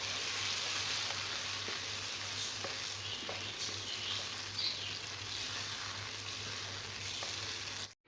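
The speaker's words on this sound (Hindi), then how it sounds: "अब जो हरी मिर्चें और धनिए का हमने पेस्ट बनाया था वो शामिल कर देंगे और इसको भी अच्छी तरीके से भून लेंगे।" Green chili and coriander paste frying in a kadhai with chicken for green tikka kadhai, a continuous soft sizzle with faint stirring clicks, steady throughout and cutting off abruptly at the end, no voices.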